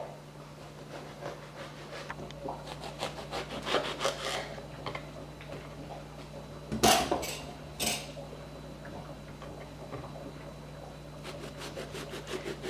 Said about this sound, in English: This time I am going to cut it.